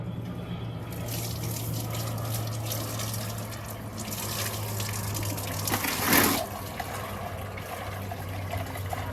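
Water gushes steadily from a tap with strong force, a continuous close-up rushing and splashing that swells briefly louder partway through, with no talking.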